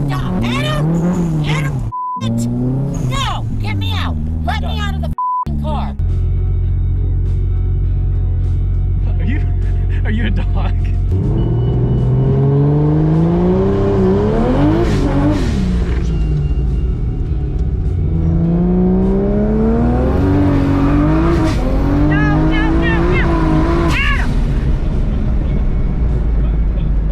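A car accelerating hard in a drag race between two drivers, its engine rising through repeated revving surges, loud and close from inside the cabin, with voices talking over it early on.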